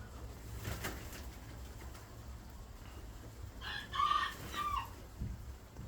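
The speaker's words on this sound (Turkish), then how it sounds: "Bugün sizlere güvercinlerimi yemlerken çekiyorum." Pet pigeons being fed, with faint bird calls and cooing sounds rising briefly over a low background rumble partway through.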